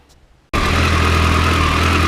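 A Kawasaki ZX14 motorcycle engine starts after a brief quiet moment, then idles loudly and steadily while warming up, with a constant low rumble up close.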